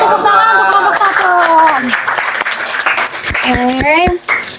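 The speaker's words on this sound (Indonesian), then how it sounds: "Ayo beri tepuk tangan untuk kelompok 1." Clapping for a student group in a classroom counseling lesson, loud and close, mixed with overlapping voices and cheering calls from the students.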